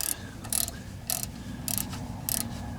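Ratchet clicking in short bursts as it loosens a brake caliper bolt on a Savanna van with badly worn front pads, five quick ratcheting runs spaced evenly, close up over a steady low background hum.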